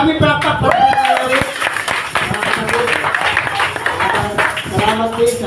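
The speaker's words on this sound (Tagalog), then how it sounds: "So isang palakpak, maraming palakpak." A church congregation claps at a Christmas Day service, a scattered, crackling patter of hands running under voices that speak and sing over it throughout.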